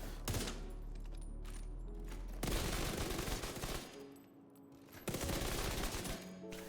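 Submachine gun fire in The Division 2 comes as dense, loud automatic bursts, two long sustained strings separated by a short lull, with game effects around them; no talk.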